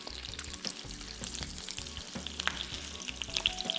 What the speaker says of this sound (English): So I'll start with prawns. And maybe a couple of scallops.